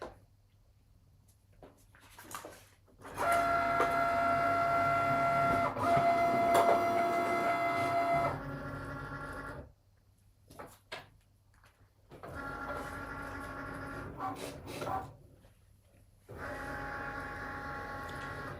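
A Cricut cutting machine with a fine point blade cutting glitter cardstock, whirring and buzzing loudly in long mechanical passes with pauses and a brief quieter stretch between runs, close and without talk.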